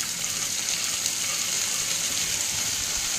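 Red lentils fry in mustard oil with cumin and dried chilli, a dense, even, hissing sizzle held steady and fairly loud throughout, with no talk.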